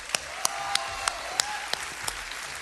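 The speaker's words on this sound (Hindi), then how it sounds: "सो सर, आपके लिए जोरदार तालियां हो जाएं।" Sparse, evenly spaced hand claps from a small group on a Hindi TV show, about eight sharp claps over a few seconds with a faint background murmur.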